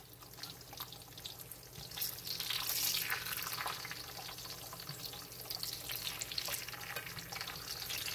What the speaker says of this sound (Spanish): Aquí en el sartén voy a poner las tortillas. Esta grasa que está aquí en el sartén es de la carne,